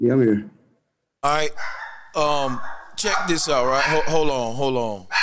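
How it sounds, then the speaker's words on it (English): Dogs bark in short bursts in the background while someone talks over them at close range. "Excuse the dogs."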